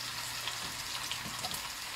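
Potatoes with onions fry in warm grease in an iron skillet, giving a steady close crackling sizzle with no talk.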